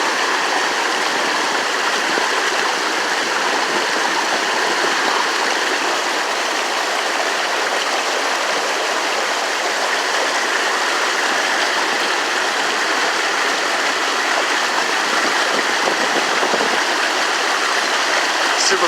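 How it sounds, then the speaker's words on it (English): A loud waterfall pours into a river, producing a dense, steady roar of rushing water that stays constant throughout, with faint voices barely audible beneath it. "Waterfall river thing."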